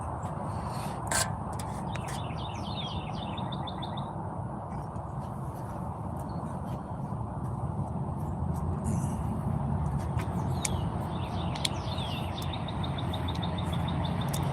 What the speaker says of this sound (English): And you get all these birds.